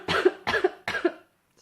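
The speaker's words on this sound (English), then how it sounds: "Still hurts quite a lot when I cough." Three harsh, chesty coughs in even succession from a woman 36 weeks pregnant and recovering from illness, close to the microphone, each burst short and followed by a brief pause, ending in silence.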